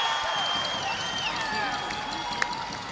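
Faint crowd murmur and scattered reaction inside the Scotiabank Centre during an NBL Canada basketball game between the Halifax Hurricanes and Island Storm, heard right after a missed free throw, with one sharp clap near the end.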